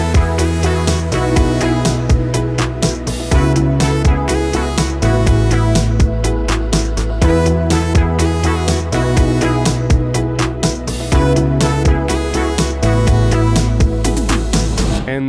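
An indie rock beat plays its full chorus hook, with a steady drum groove, deep bass, keys and a melody layered together, loud and dense throughout with no talking.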